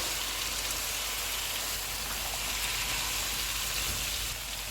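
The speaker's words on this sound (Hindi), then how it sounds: "इनको 2 मिनट तक भूनेंगे।" Spices (dried plums, tamarind, black pepper, coriander, turmeric and red chili powder) sizzle in a pot for spicy vegetable pulao, giving a steady, close hiss that holds throughout with no voices.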